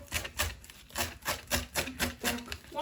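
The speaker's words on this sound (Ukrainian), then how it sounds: "нарізаємо зелень. Мілесенько" A knife finely chopping fresh parsley on a board, with quick, steady, evenly spaced taps close by.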